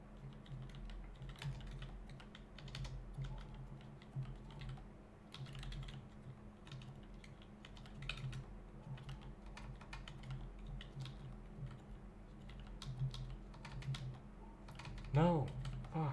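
Quick, light clicks of a computer keyboard being typed on continue steadily over a low background hum, with a brief voice or whine near the end.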